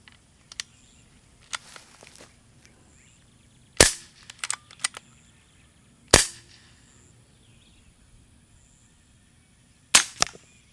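A Brocock Sniper HP .22 PCP air rifle fires three sharp, close cracks spaced a few seconds apart. Soft clicks of loading and cycling come between the shots against a quiet background.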